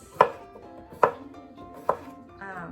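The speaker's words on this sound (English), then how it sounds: "now we're going to be cutting cucumbers" Three sharp knife chops through cucumber on a cutting board, spaced about a second apart and close by, with a faint tonal sound trailing at the end.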